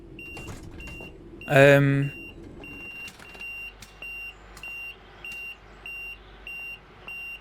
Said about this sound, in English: Why is that beeping so loud everywhere, right?